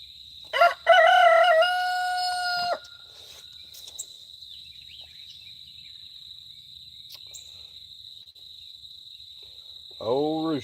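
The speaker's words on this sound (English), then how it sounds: "Old rooster's pretty loud." An old rooster crows loudly and close by in a farmyard, one long harmonic call, then a second crow starts at the end over a steady high cricket-like drone.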